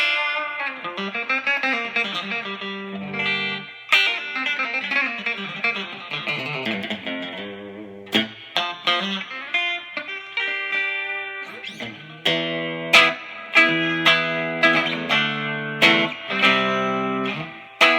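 A Fender American Professional Stratocaster played clean through an effects unit, first in ringing arpeggiated chords, then in sharper picked notes and short chord stabs, loud and up close with no talking.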